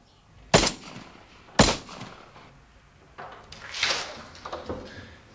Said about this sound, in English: A gunshot.